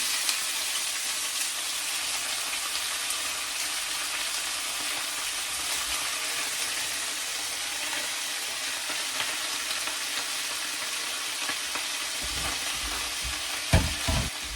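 Shredded cabbage sizzles and fries steadily in a hot pan, a continuous close crackling hiss with a few stirring clatters near the end.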